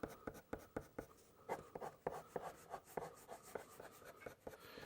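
A big coloured pencil scratches and rubs across paper in quick, uneven strokes, the close dry scraping rising and falling with each stroke and running continuously without any voices.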